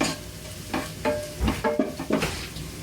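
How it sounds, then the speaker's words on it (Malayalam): Chilli powder sizzles in a very hot pan for a Gobi Manchurian, with a steady frying hiss broken by several sharp spatula scrapes and stirs, close and fairly loud. "പാൻ നല്ല ചൂടായതുകൊണ്ട് ഇട്ട വഴിക്ക് തന്നെ മുളക് പൊടിയൊക്കെ നന്നായിട്ട് മുരിഞ്ഞിട്ടുണ്ട്"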